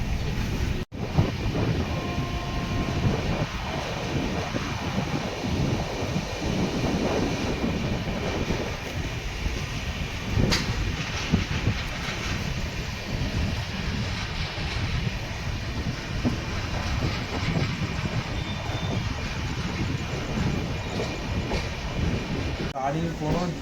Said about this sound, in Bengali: আমাদের ট্রেন 1 ঘন্টা 34 মিনিট লেট করে এই মুহূর্তে বিশাখাপত্তনম রেলওয়ে স্টেশনে ঢুকছে